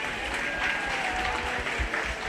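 A crowd at a 4-H/FFA youth sheep and lamb show applauds the young exhibitors, giving steady, full clapping across the whole stretch with low rumbles of arena noise beneath.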